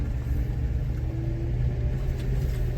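A stock Jeep JK with a 3.8 liter engine, 4.88 gears and a six-speed manual crawls along a mountain trail in second gear, four-low, giving a loud, steady low engine rumble with no talking.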